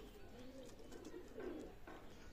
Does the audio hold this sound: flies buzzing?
no